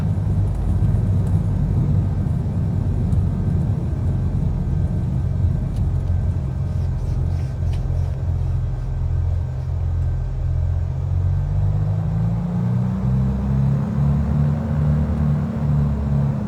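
Twin engines of a Piper PA-44 Seminole in Microsoft Flight Simulator, a loud steady droning rumble that rises slightly in pitch near the end, with no talking.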